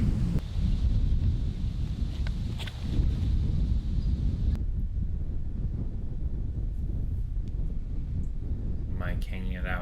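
Gusty wind buffets the microphone on an outdoor disc golf course during a New Jersey B-tier tournament round, a loud broadband rumble that runs nearly the whole time, easing slightly partway through.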